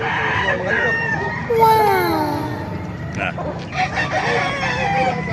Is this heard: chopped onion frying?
no